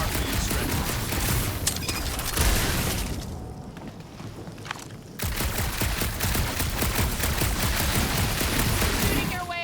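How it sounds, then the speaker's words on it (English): Rapid gunfire in Guardians of the Galaxy, dense bursts of shots rattling loudly and close, dropping briefly before a sustained fast volley resumes, with a voice speaking in between. "Shooting your way out of every problem again, Peter?"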